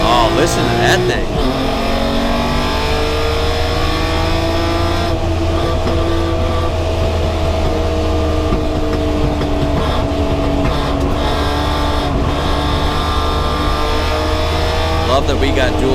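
Onboard a Chrysler Valiant E49 Charger race car with a Hemi Six engine, a loud, steady engine drone with rising and falling revs runs continuously throughout, with someone talking over it.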